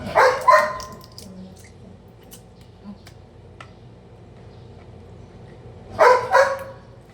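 A household dog barks loudly nearby in two separated clusters of a few sharp barks each, with quiet room noise in between.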